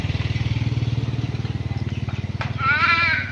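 A motorcycle idles and runs close by with a steady rhythmic engine throb, set in a residential street during a family visit in Cibinong; a voice calls out near the end.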